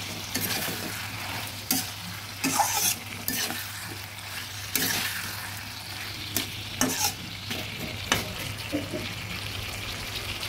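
Pabda fish curry with cauliflower and chillies is stirred in a pan, a continuous soft sizzle broken by repeated close spoon clinks and scrapes against the metal.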